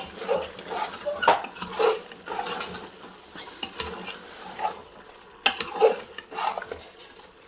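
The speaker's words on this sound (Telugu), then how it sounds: "ఇప్పుడు అంతా ఇట్లా కలిసేలాగా కలుపుకొని వేగనిద్దాం నూనెలో" Country chicken curry pieces stirred in hot oil in a pot, with repeated metal spoon scrapes and clinks against the vessel over a light sizzle, close and intermittent.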